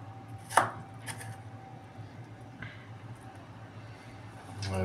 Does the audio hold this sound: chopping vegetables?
yes